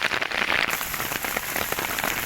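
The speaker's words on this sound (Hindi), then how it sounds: "आसमान में बादल छाए हुए हैं, पूरा आसमान बादलों से भरा हुआ है और बारिश शुरू हो चुकी है।" Rain patters steadily and densely on a farm field, a close, even hiss of drops with no voices.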